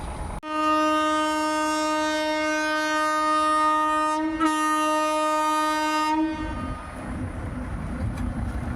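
An express train blares its horn in one loud, sustained blast with a brief break, passing close by a railway level crossing in a village, then rumbles away with rolling wheel noise.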